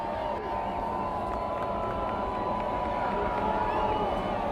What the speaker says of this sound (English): Crowd's getting into it.